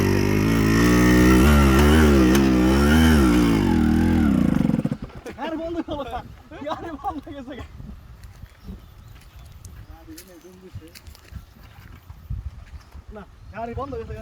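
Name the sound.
motorcycle riding in African forest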